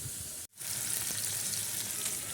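Potatoes fry in hot oil in a pan, giving a loud, steady, close sizzle that breaks off for a split second near the start and then resumes at full strength.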